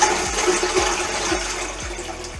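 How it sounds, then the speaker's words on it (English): A toilet flushes with a loud, close rush of swirling water that keeps churning steadily, with a faint rhythmic knocking underneath. "you use someone else's toilet, you flush it, and the water begins to rise"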